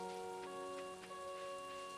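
Steady rain patters throughout in a farming video game, a continuous soft hiss with faint scattered drops under a constant layer of bright tonal game music.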